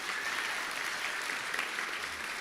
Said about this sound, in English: Let's give a clap for them.